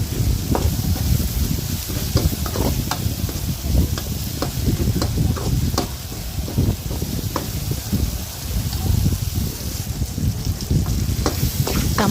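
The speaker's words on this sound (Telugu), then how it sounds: "టమాటా అయితే వేసి వేయించుకుంటున్నాను." Tomatoes fry with browned onions in a pan for tomato poha upma, a steady close sizzle broken by repeated sharp clicks and scrapes of stirring, no talking.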